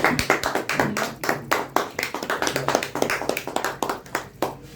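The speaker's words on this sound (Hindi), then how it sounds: "मैं कहूँगा जोरदार करके ताली बजाई जाए" A gathered audience at a community society event claps hard and steadily in welcome, a dense run of sharp hand claps that carries on without pause and thins slightly at the end.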